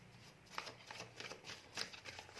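Tarot cards being shuffled by hand, a soft, quiet riffling and sliding with small crisp flicks, close and alone without talk.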